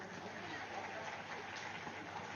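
A large crowd at a huge eleven-day meditation gathering applauds the staff, a dense, steady wash of many hands clapping at a distance.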